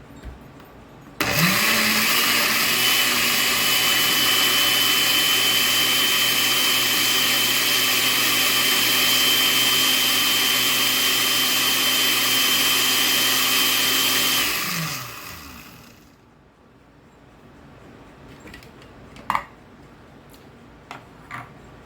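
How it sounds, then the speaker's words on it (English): A blender whirs loudly and steadily for about fourteen seconds blending cucumber, then spins down and stops, leaving a few faint clicks and taps. "So we're going to add that to the blender, and we're going to blend this up really well."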